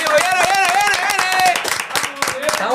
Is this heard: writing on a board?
no